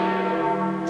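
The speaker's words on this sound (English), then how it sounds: "The bells rang out across St. Peter's Square, across the city" Church bells ring out across St. Peter's Square in Rome, a sustained, dense wash of overlapping bell tones that hangs loud and steady without pause, with no voices present.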